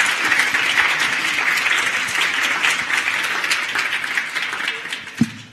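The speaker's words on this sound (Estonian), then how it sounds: "nagu sa kuulsid ka aplausi järgi, et inimestele meeldis su ettekanne" Audience applause fills the hall after a talk, steady dense clapping from many hands at a fairly loud level, sustained throughout with no voices over it.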